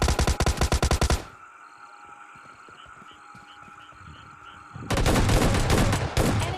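Rapid bursts of automatic gunfire in PUBG Mobile Lite, a loud rattling volley that stops, leaving a quieter game ambience with distant shots and beeps, before another dense burst erupts.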